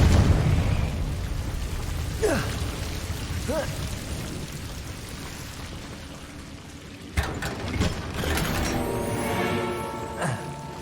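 A Confringo fire-blasting spell in the Hogwarts Legacy video game erupts as a loud, sustained crackling roar, with a sharper burst partway through.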